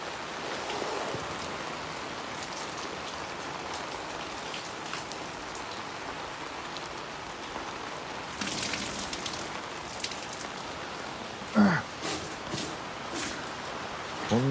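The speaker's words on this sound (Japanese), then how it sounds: "雨の音聞こえるかな。" Steady, close rain pattering on surfaces through a wet outdoor campfire setting, with a continuous dense hiss and a few louder drips and knocks near the end.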